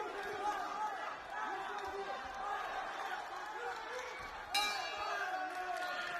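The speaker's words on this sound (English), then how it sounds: "Well, there's the bell." A boxing ring bell rings once near the end to close a round in an Uzbekistan versus Russia bout, a bright metallic ding over steady arena crowd noise and chatter.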